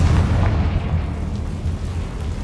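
A blasting spell explodes in the Hogwarts Legacy video game, a dense low rumbling boom that sustains steadily for a couple of seconds with no talk.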